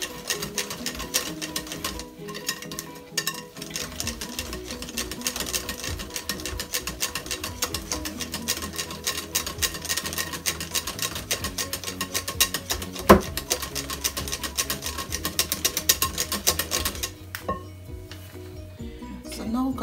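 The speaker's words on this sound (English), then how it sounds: "I'm gonna whisk this out properly first." Ingredients are whisked with almond milk in a bowl, giving a fast, steady, rattling whisk that runs almost without pause for about twenty seconds, close and moderately loud.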